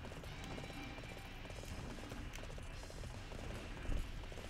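Galloping horse hooves clatter in Dynasty Warriors 8 Empires, a quick, steady drumming of clip-clops at low volume beneath busy battle ambience, with a brief thump near the end.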